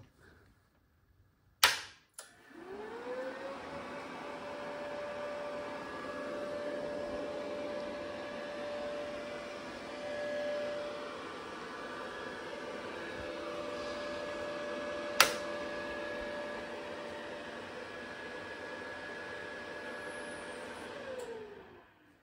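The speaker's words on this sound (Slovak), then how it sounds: "O chladenie sa starajú dva ventilátory, ktoré keď sú zapnuté, by mali mať okolo 90 decibelov." Cooling fans of a Powermat PM-IMG-230T multi-process welding machine spin up and run with a steady, loud whir and hum, bracketed by a couple of sharp clicks from the power switch near the start and middle.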